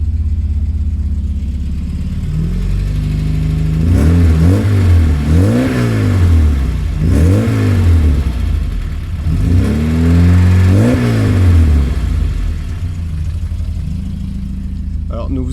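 A Porsche 924 engine fitted with a new Dansk exhaust revs repeatedly in several loud, rising and falling bursts over a steady low idle, close by and dominant throughout.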